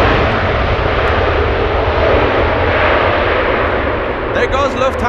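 Roaring Lufthansa Airbus A380 quad-jet taking off at an airport, loud and sustained broadband engine thunder close by, with brief faint voices near the end.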